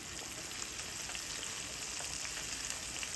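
Mustard-coated chicken frying in a pot of oil over a wood fire, a steady, faint hissing sizzle with fine crackles and no talking.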